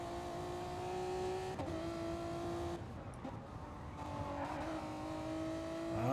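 A GT race car engine in a racing video game at Laguna Seca, a continuous close high-pitched drone that drops with gear shifts and lifts, then climbs again under acceleration.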